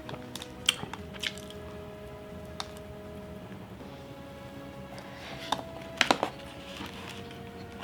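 Someone bites and chews a soft, sticky peanut butter cookie topped with chocolate, making several quiet, close squishy bites and mouth sounds over a low background hum.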